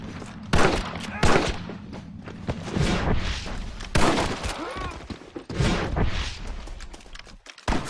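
Video game shootout with heavy gunfire: repeated loud booming shots and bursts arrive in clusters through the stretch, with a voice talking over parts of the action.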